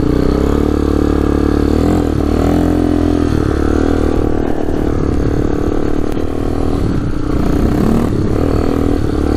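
A Yamaha Warrior motorcycle with a freshly rebuilt engine runs loud and steady in first gear, its dense mechanical drone with slight clatter filling the whole stretch up close.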